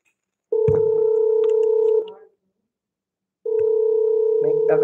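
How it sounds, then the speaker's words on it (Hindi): Telephone tones cut into a live stream: two long steady beeping stretches with a short gap between them, loud and close, with some faint background sounds mixed in. "कॉल आ जाती है फोन पे तो डिस्टरबेंस हो जाता है"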